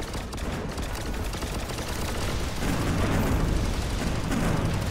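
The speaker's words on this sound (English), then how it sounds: "this minigun thing, you need to be a lot more accurate" Minigun on a combat mech in the sci-fi game Galahad 3093 fires a dense, continuous stream of rapid shots, a loud rattling roar that thickens and grows heavier midway through.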